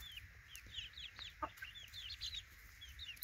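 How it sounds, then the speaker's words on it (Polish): Chicks cluck and peep softly while eating groats in a poultry-breeding setting, a busy scatter of short high chirps with an occasional louder cluck, faint and close with no talking. "Kurczęta sobie jedzą kaszę."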